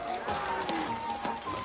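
Horses walking along a country path, with soft hoof clops under ongoing outdoor sound and faint background voices.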